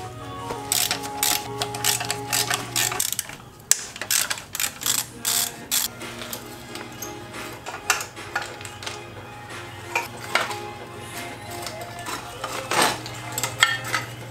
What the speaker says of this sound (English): Got some bolts under here we're gonna have to remove.